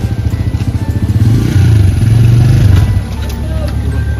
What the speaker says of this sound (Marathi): आला गाडीचा आला चौथ्या गेअरवर गाडी चालू करतो